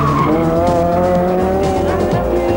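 Vauxhall Astra rally car driven hard on the Monte Carlo Rally, its engine note loud and close with shifting harmonic tones and brief tire squeal as it rushes through a stage, no voices over it.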